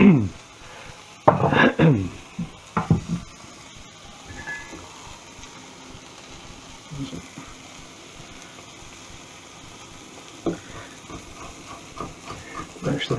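Minced pork burger sizzling in olive and vegetable oil in a frying pan, a steady low hiss and crackle running underneath, with a few clattering pan knocks and some brief talk near the start.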